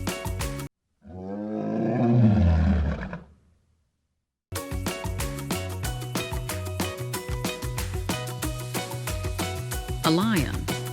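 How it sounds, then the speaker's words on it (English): A single loud, close lion roar rises and fades over roughly three seconds, followed by a pause and then upbeat background music. "A lion."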